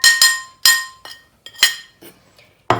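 A spoon clinks sharply against a bowl as spices are mixed into gram flour batter for aloo pakora, with about seven irregular, close, bright taps and short pauses between them.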